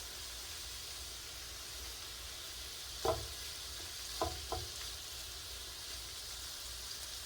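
Shrimp sizzling in a skillet, a soft steady hiss of frying at moderate distance, broken by a few short clanks of a utensil against the pan, with no voices.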